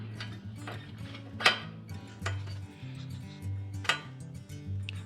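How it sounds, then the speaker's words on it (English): Oiled metal lifters dropped into a B200 mini bike engine, making a few sharp, close metallic clinks and taps spaced out over a quiet workshop background. "Throw some oil on these lifters and drop these in here."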